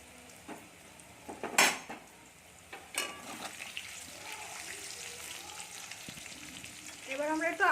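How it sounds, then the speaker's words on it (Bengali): Potatoes with a little salt fry in a pan, a soft steady sizzle broken by a few sharp clinks of a utensil against the pan and brief stirring, with a louder sizzling burst at the end. "আলুটাকে একটু হালকা লাল করে ভেজে নেব চলুন আমরা ভেজে নিই"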